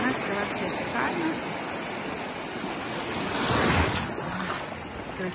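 Warm sea waves break on the shore in Turkey in November, a loud, continuous wash of surf with a swelling crash near the end, roughened by wind on the microphone.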